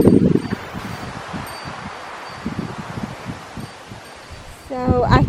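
Wind rustles through garden plants such as celosia plumes, a steady close leafy hiss with gusty swells, rising louder near the end.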